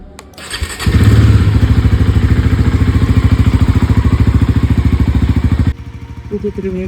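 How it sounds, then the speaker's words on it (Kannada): Bajaj Pulsar NS400Z motorcycle starting after a crash: a short starter whir, then the engine catches and settles into a loud, even, rapidly pulsing idle, which cuts off near the end and is followed by a few faint clicks. "let's start the bike"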